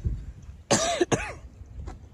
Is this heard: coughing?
yes